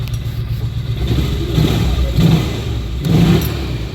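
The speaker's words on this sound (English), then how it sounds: "Here's the start. Hasn't started and idled like that in a couple years." A Polaris 500 Ranger engine with a newly replaced camshaft runs at a steady, close idle, its low rumble pulsing with brief rises in revs.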